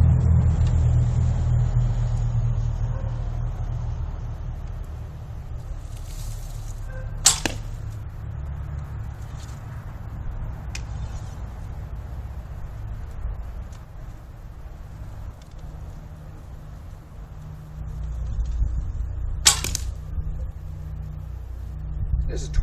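A reinforced Manchu bow shot outdoors with a three-fingered draw sends off bamboo arrows. Two sharp twangs sound well apart over a low background rumble like passing road traffic.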